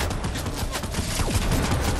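Dense video-game gunfire, a continuous rattling fusillade of rapid shots filling the whole moment with no clear gaps.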